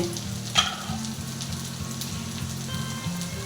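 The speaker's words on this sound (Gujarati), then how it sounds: "ભીંડાને પાછું થોડી વાર ફેરવતું રહેવાનું" Sliced rounds of desi red okra fry in a pan with a steady, close sizzle while a utensil stirs them, giving one sharp clack early on and soft scraping throughout.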